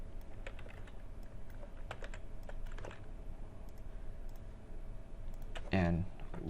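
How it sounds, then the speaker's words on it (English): Computer keyboard typing in sparse, irregular clicks and taps at a desk, faint against a low hum, with a louder burst of noise near the end. "so I'll type in"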